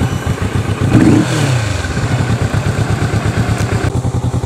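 Yamaha M-Slaz motorcycle engine heard while riding, a close, steady pulsing thrum with a brief rev swell near the start, then even chugging throughout, with no talk.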